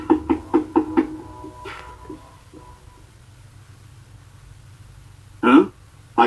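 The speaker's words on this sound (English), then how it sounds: "I think Bud is knocking." Knuckles rap on a house door in a quick burst of five or six close knocks, then a pause with faint background noise before another loud knock lands near the end.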